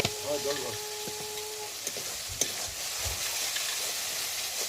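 Yogurt masala sizzles in a pan as it is stir-fried, a steady close hiss with scattered scraping and clinks from stirring, while a voice speaks briefly at the start.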